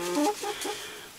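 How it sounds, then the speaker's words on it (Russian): Rooster clucking up close in a room, a few quick loud clucks bunched at the start, then fading to quieter indoor room noise. "Вот такой у нас петух"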